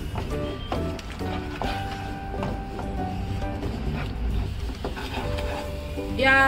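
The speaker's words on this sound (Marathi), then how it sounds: "हे सर्व मसाले या मिश्रणात आपण एकजीव करून घेऊया" Spices, including ajwain and black pepper powder, being stirred into an Indian gooseberry (amla) mixture in a pan, with a soft continuous scraping and sizzling and faint clinks of a spoon against the vessel.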